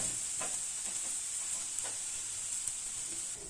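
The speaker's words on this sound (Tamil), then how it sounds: "வெங்காயம் நல்லா செவக்கட்டும், பச்சை வாசனை போற வரைக்கும் வதக்கிக்கும்" Onions sauté in a pan with a steady, even sizzle and hiss throughout, faint stirring scrapes underneath and no voices.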